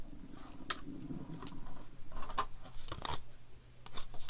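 Scissors cut through paper while scoring and trimming a craft piece, several sharp snips and crisp rustles spaced unevenly, close and fairly quiet.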